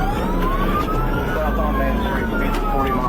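Wailing police sirens in a video game sweep up and down over a steady engine hum, loud and close, with a voice speaking briefly underneath.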